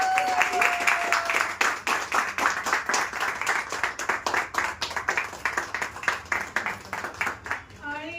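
An audience at a child's tenth birthday celebration claps steadily and loudly for several seconds, a dense rhythmic patter of many hands, with a voice heard briefly at the start.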